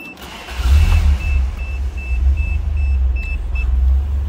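A 1985 Toyota Celica GT-S convertible engine cranks and catches, then settles into a low, steady idle rumble, with a faint repeating electronic warning chime over it.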